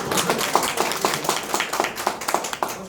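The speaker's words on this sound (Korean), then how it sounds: "박수 칠 일이구나" Audience clapping at a business presentation, a brief run of fairly even, close claps from a small group with little else around it.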